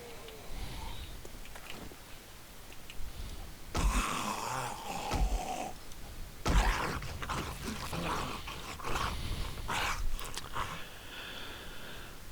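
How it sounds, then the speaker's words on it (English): In the survival video game 7 Days to Die, a dog growls and snorts at low level under muffled game sounds, with a few louder bursts of noise breaking in along the way. "That's another dog."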